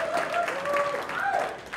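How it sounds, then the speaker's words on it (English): Audience applause at a startup community event in a tech village venue, a steady wash of clapping from a crowd lasting the full moment, fairly close, with shouts or cheers rising over it. "give a warm round of applause for Johnny on it"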